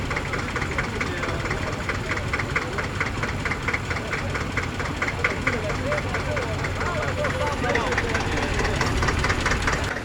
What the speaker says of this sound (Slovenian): Traktor Dojc, letnik 57, obnavljali smo ga celo zimo, to se pravi pol leta.